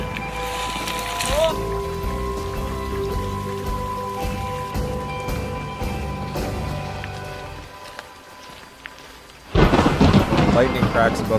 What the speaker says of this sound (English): Lightning cracks above the ridge and hail begins to fall